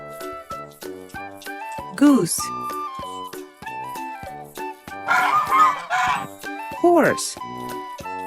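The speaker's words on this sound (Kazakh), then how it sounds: "Goose." Several loud goose honks in short bursts over a steady, rhythmic backing melody.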